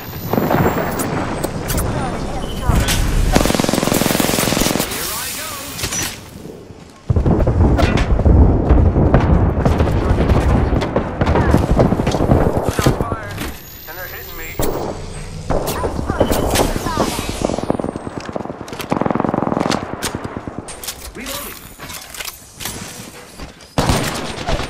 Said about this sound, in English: Giving my airstrike.